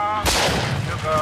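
A single loud pistol shot in BioShock Infinite, a sharp close crack with a booming tail that rings out briefly over a steady game backdrop.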